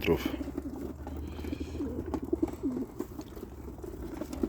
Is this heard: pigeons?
yes